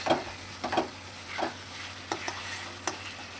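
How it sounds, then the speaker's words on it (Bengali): Chicken goes into a pot of frying spice masala with potatoes, giving a steady close sizzle broken by several soft stirring knocks and scrapes. "এরপর চিকেনটা দিয়ে দিলাম। চিকেনটা দিয়ে এরপর ভালো করে কষবো"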